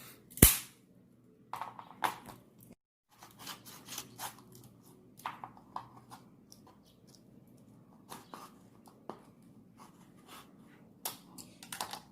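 A knife cuts through a hard, tough home remedy ingredient, giving a sharp snap at the start and then irregular scraping, cracking chops close up with brief pauses between them, no talking.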